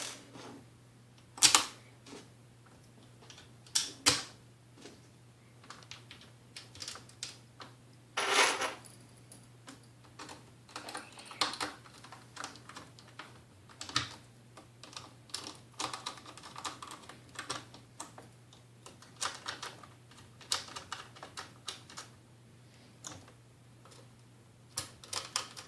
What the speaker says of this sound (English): I'm going to turn it around and put in our 4 screws as such.